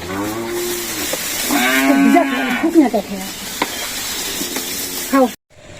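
Cattle on a village farm moo in long, loud, drawn-out calls close by, one after another, with a person talking among the calls before a sudden cut to silence.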